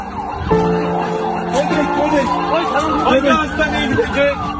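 A wailing ambulance siren rises and falls continuously, fairly loud and close, at an earthquake rescue scene, with a crowd murmuring and voices talking beneath it.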